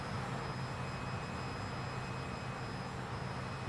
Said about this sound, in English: And them engines sound good, dude.